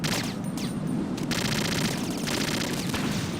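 Rapid bursts of automatic gunfire from the Metal Gear Solid video game crackle in a steady, loud stream with brief gaps, close and dense, with no talk.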